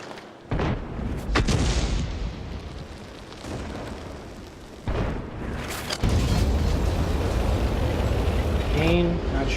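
Booming World of Tanks cannon shots fire several times at irregular intervals, each a deep, forceful blast with a rumbling tail, over steady engine and battlefield noise, with a brief whistling tone near the end.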